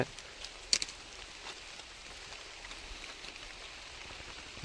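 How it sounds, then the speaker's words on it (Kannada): Continuous rain pours down in a steady hiss, with a couple of sharper drip or tap sounds early on and a louder thump at the very end. "ಮಳೆ ಬ್ಯಾಕ್ ಟು ಬ್ಯಾಕ್ ಮಳೆನೇ ಬತ್ತೈತೆ"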